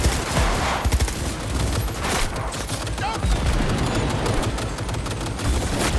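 Dense, sustained gunfire in a Cyberpunk 2077 firefight, with overlapping bursts and rapid shots filling the whole stretch and a loud, chaotic battle mix behind them.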